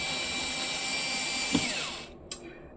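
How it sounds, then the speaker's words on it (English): Electric screwdriver on its lowest power setting backing screws out of a CPU cooler mount during an AM5 gaming PC build, a steady close whir for about two seconds that winds down, then a brief click. "I'll use my electric screwdriver for this"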